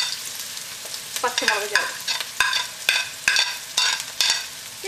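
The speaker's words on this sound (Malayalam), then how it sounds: "ഇനി നമുക്ക് ചൂടായ എണ്ണയിലേക്ക് ആദ്യം നമുക്ക് സവോള ഇടാം. ഇഞ്ചി ഇടാം. വെളുത്തുള്ളി ചേർത്ത്." Onion, ginger and garlic frying in hot oil for an Indo-Chinese vegetable Manchurian, with repeated spoon scrapes and stirring clatter over a steady sizzle, close and moderately loud.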